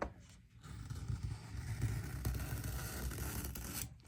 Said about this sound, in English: I'm going to try to cut it from this side.